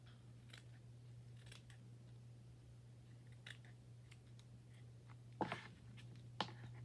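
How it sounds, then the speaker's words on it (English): Scissors snip a small piece of paper for a glue book collage, with a few faint, sparse cuts over a low steady hum and two slightly louder snips near the end. "I'm just gonna cut a small piece off."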